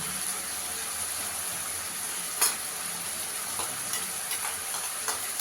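Onion fries in a pan ahead of grated tomato, a soft, steady sizzle with a few sharp stirring clicks from the pan, close and unaccompanied by speech.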